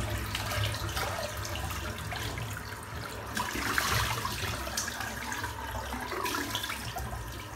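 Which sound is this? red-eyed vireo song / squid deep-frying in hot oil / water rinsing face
water rinsing face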